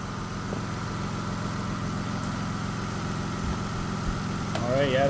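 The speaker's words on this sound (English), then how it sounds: "that compressor is still running" The R12 air-conditioning compressor on a Lexus SC300 runs as a steady, low mechanical hum alongside the idling engine, with brief faint voices and some handling noise near the end.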